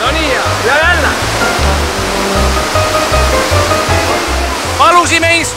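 Rushing water roars steadily from an indoor surf wave machine, a loud continuous broadband wash throughout, with people talking over it.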